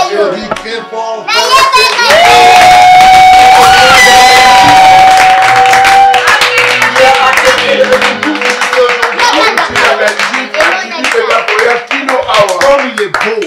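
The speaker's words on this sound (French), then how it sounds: "Applaudis très fort." A church congregation cheers and claps loudly and steadily for about thirteen seconds, with shouts, voices and a sustained whistle-like tone rising over the dense crowd noise.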